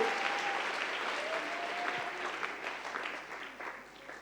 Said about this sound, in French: Acclamons quand même cette femme-là.